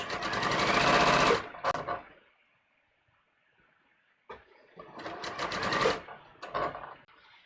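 A sewing machine stitches a garment side seam in two loud, close bursts of rapid stitching separated by a few seconds of near silence, the second run stuttering into short spurts.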